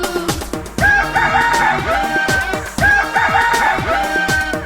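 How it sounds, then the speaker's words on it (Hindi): A rooster crows twice, loud and drawn out, over a bouncy instrumental backing in a Hindi children's learning song. "मुर्गा बोले कुकड़ूकू।"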